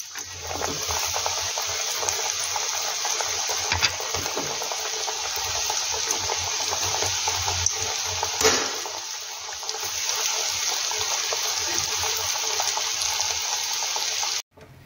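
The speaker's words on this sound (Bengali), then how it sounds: "তেলটা হয়ে গেছে, এবার আমি একটা একটা করে ছেড়ে দেব।" Lemon chicken pieces deep frying in hot oil, a steady loud sizzle and bubbling that holds nearly constant, with a brief dip partway through before cutting off abruptly at the end.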